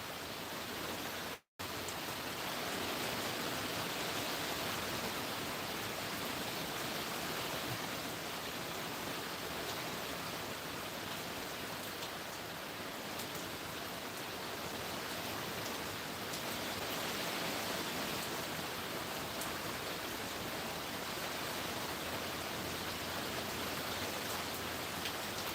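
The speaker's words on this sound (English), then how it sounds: "it sounds like the rain's getting heavier." Heavy rain pours down on a desert homestead, a loud unbroken hiss of drops drumming on surfaces that fills the scene, briefly cut out once early on, with no voices.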